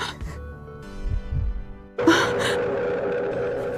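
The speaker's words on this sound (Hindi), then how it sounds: "धड़कन कमजोर हो रही है।" A weakening heartbeat sound effect in a dramatic scene, two soft low thumps with a humming tone under them before a sudden burst of louder noise cuts in.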